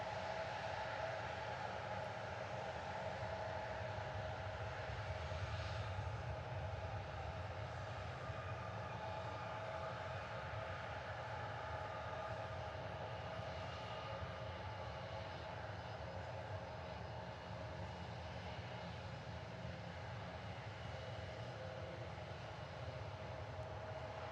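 Airliner engines roar in a steady, distant rumble during takeoff on runway 19 at Reagan National Airport, a low continuous drone lasting the whole stretch without voices.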